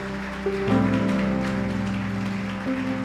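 Church congregation applauding during a service, a steady patter of many hands heard at moderate distance with a sustained musical tone underneath, lasting throughout.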